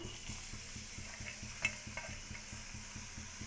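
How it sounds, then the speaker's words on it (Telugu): Onions frying in oil in a pan, a faint continuous sizzle with a steady ticking rhythm of light clicks and one louder clink midway, no voices. "ఇప్పుడు ఎర్రగడ్డలు వేస్తున్నానండి."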